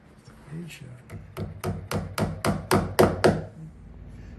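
A hammer taps small nails into the leather-covered slate trim of a pool table pocket. About nine sharp, close taps come in a steady, quickening rhythm, with faint talk underneath.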